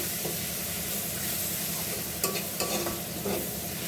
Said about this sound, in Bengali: পেঁয়াজ পরিমাণ মতো লবণ দিয়ে এগুলোকে আদা ভাজা করে নিতে হবে